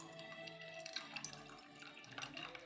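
Water is poured into a lemon-dash Bacardi rum drink, a short, quiet splashing trickle with small bright drips, close by.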